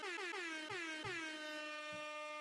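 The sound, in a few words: air horn sound effect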